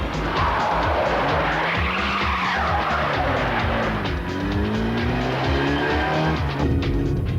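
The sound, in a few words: stolen cars skidding at speed while joyriding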